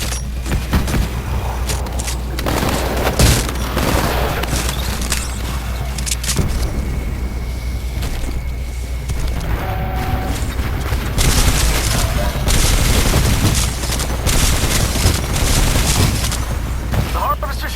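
Mortar specters firing on the harvester during a Titanfall 2 Frontier Defense match in Angel City, a continuous barrage of booms and gunfire with voices talking over the battle.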